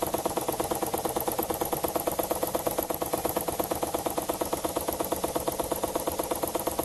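A small steam engine made from a spark plug chugs steadily with a fast, even pulsing beat and a slight rattle, running continuously up close, exhausting out the end of the crankshaft.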